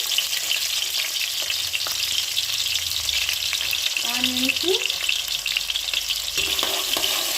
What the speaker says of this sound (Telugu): ఆయిల్ వేసుకుందామండి. ఆనియన్స్ వేస్తున్నాను.